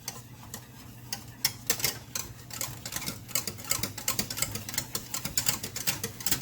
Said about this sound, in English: So now I'm going to stir my chocolate until everything is completely melted.